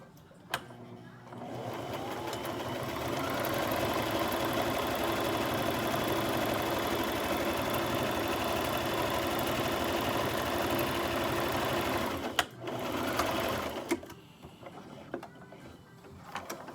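A sewing machine stitches a fabric face mask in a long, steady mechanical whir that runs for about ten seconds. It stops briefly, then starts again with a short burst of stitching.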